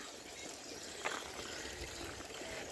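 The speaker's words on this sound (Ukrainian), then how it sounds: "Тут я люблю сидіти, читати, слухати, як лється вода." A small spring stream in Portugal flows with a soft, continuous trickle and faint splashing, with one brief brighter splash about a third of the way in.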